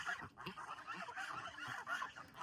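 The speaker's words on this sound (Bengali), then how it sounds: "ফার্স্টে হচ্ছে আমরা রাজহাঁসগুলো ছাড়ি" A flock of domestic geese honks continuously in the morning before feeding, with overlapping nasal calls at moderate distance and faint background noise.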